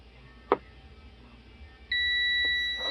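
A digital multimeter gives a steady, clear continuity beep as its two probes touch together on a PA amplifier repair bench, the tone starting abruptly after a short click and holding for about a second.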